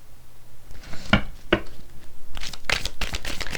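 Tarot cards handled and drawn at a love reading: a couple of crisp, isolated card flicks, then a denser run of papery rustling and shuffling close by, with no talk.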